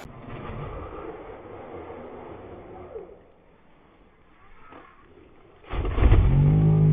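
An Arrma Senton BLX 3s V3 RC car at full throttle, with a buzzing electric motor whine that fades as it speeds away, then a loud close blast of wind or handling noise near the end; no talk.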